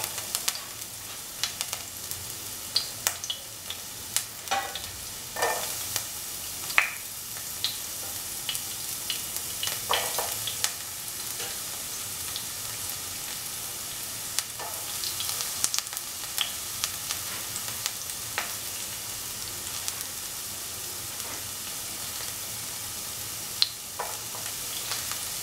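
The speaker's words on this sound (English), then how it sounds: "pan and pour in 10 ml of oil. Now put in the onions which we have chopped." Chopped onions frying in oil in a pan, a steady close sizzle and crackle with scattered sharper pops and occasional stirring scrapes running throughout, with no talking.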